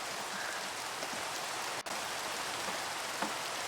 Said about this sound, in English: And let's get rid of the rain.